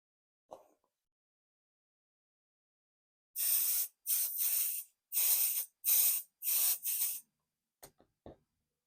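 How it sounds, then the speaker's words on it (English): Basting spray for quilting sprayed onto fabric in six close, loud hissing bursts of about half a second each, with a couple of small clicks and taps before and after. "go ahead and reach for your basting spray of choice"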